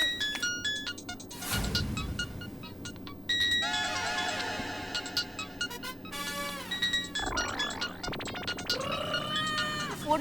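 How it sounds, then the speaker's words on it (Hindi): A melodic mobile phone ringtone plays over a busy mix of other sounds, its bright electronic tones rising and repeating throughout. "फोन किसका बज रहा है?"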